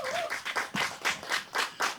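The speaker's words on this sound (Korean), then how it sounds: "박수 한번 부탁드리겠습니다." Clapping at a literary talk concert, heard as close, evenly spaced claps in a steady rhythm of about four per second, crisp and fairly loud, with no talking.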